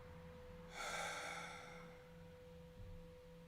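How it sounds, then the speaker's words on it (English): A long nasal exhale through one nostril during alternate nostril breathing, a steady soft rush of air that swells quickly and then tapers slowly over a few seconds, heard close and alone over a faint background hum. "right thumb covers the right nostril. And exhale everything out the lungs"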